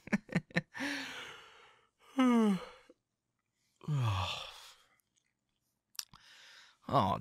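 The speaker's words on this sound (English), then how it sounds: "Now you got me yawning." A person yawns and sighs several times up close in a quiet room, with long breathy drawn-out exhales, soft gasps and small mouth clicks between them.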